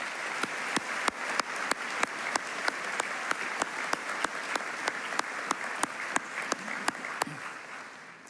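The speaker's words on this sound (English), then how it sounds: "can we give the teachers and leaders in this room a big round of applause?" A graduation crowd of families and friends applauds the teachers and leaders, a steady wash of clapping with a few sharp, regular claps standing out near the front, sustained for the whole stretch.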